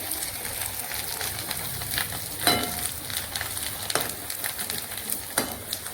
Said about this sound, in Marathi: कुरडी तळत आहे